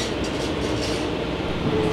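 KiHa 120 local diesel railcar running on the Geibi Line toward Bingo-Ochiai, a close, continuous interior rumble of engine and wheels on track with a faint wheel squeal near the end.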